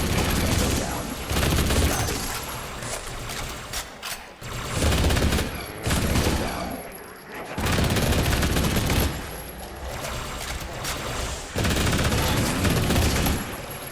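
Gunfire from the shooter game Halo rips out in long stretches of rapid, dense automatic shots, loud and close, broken by short pauses between volleys.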